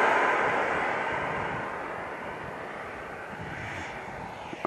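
An RC Flyfans Gripen 70mm delta-wing jet with canards flying overhead, a broad rushing ducted-fan roar that slowly fades as it passes into the distance.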